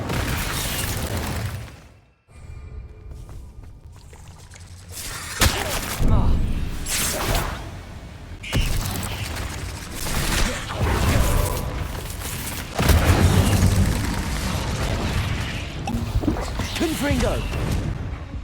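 Whooshing bursts and booms from the Incendio fire spell in Hogwarts Legacy recur every few seconds, mixed with other game effects and a voice talking over much of it.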